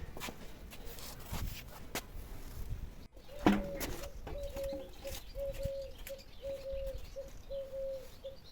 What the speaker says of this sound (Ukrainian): І ласточки так щебечуть.